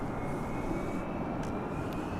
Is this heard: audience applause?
no